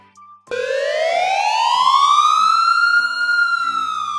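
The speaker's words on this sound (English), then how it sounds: "ambulance." A single loud, close ambulance siren starts abruptly and holds one long rising wail that levels off and begins to fall, alone and clear.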